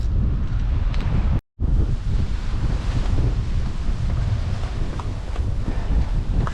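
Wind and surf at a rocky beach in the Port de la Aldea bay on Gran Canaria make a loud, continuous rushing roar with heavy wind buffeting on the microphone and a brief drop-out near the start.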